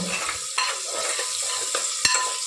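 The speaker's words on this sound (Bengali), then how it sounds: "এবার আমি এই সব মশলা দিয়ে সবজিগুলোকে আগে ভালো করে মাখিয়ে নেব" Vegetables are tossed with spices and raw oil in a cooker, giving a series of close, quick scraping and clattering stirs over a faint sizzle, with no talking.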